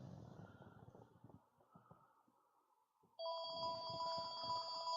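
After a few seconds of faint muffled shuffling and near silence, a telephone starts ringing with a steady electronic tone that holds loud and close until the end.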